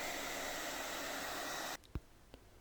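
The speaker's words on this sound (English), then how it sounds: "providing a little bit of warmth from a hairdryer, sponsored by Vidal Sassoon" A Vidal Sassoon hairdryer blows warm air in a steady whooshing roar, then cuts off abruptly, leaving a couple of faint knocks in a quiet room.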